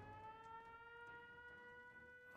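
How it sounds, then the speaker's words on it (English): An alarm blares inside the video game Fallout 4, a steady electronic tone with stacked harmonics holding continuously, fairly quiet and alone. "I'm gonna go shut off the alarm."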